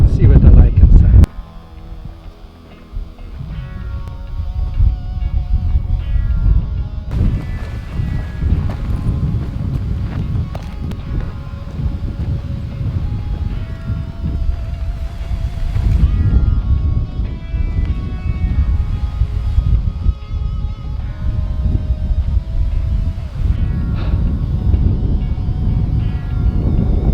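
Strong wind blows at a desert oasis campsite, a continuous low rumble buffeting the microphone, with someone talking over it throughout.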